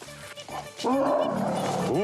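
An orphaned elephant calf in Nepal calls out with a loud, close, tonal roaring bellow that rises and falls, following a few shorter, quieter vocal sounds.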